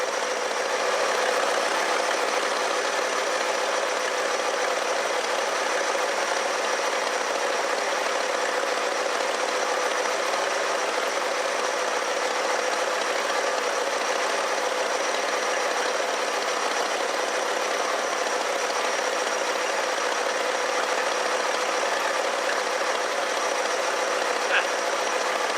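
A 1969 Lincoln Mark III engine idles hot and steadily in park, a continuous low hum and faint mechanical rattle, unchanging throughout.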